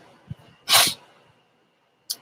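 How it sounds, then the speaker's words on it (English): A single sharp sneeze bursts out close and clear, preceded by a small intake of breath, followed by quiet and a short faint noise at the end. "I'm afraid I'm going to sneeze."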